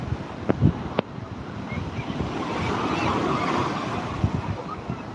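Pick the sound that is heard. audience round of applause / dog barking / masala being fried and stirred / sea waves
sea waves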